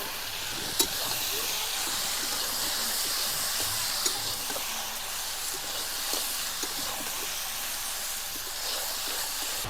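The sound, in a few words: cauliflower and potatoes frying in spice masala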